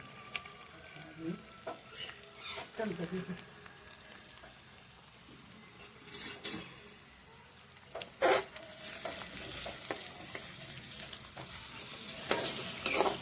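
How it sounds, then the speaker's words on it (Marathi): Masala for a bitter gourd curry fries in a pan with repeated scraping stirs over a low sizzle. The louder spoon strokes come at irregular intervals, and a voice is faintly heard now and then. "मसाला चांगला भाजून द्यायचा"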